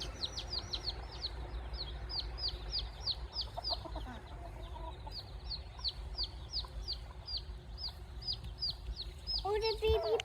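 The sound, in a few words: mother bird and baby bird calling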